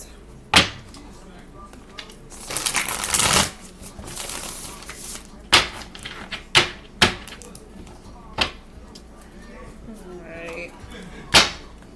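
Tarot cards being shuffled by hand, with a dense papery riffle burst in the middle and sharp taps and knocks of the deck before and after. It is close and fairly quiet, with a voice faintly present.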